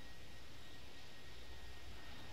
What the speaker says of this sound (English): Both of these planes are going as fast as they can.